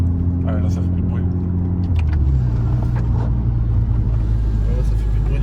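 The engine of a Mercedes A45 Aero hums low and steady, then swells after about two seconds into a deeper, louder rumble, close up, with a voice heard briefly over it.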